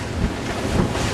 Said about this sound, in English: Got some waves.